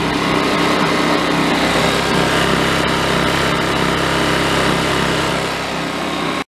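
A Honda EU2200i inverter generator runs steadily close by on a roughly 100-degree day, its small engine giving a constant buzzing drone with no change in pitch until it cuts off sharply at the end.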